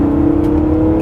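1998 BMW E36 M3 sedan engine revving, a loud, close, steady drone with a strong sustained tone over the brief moment.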